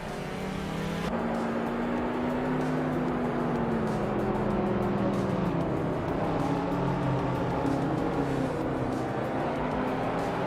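A 1998 Toyota MR2 GTS racing engine in a video game race, a continuous loud engine drone whose pitch slowly rises and falls as it holds speed, alone without talk.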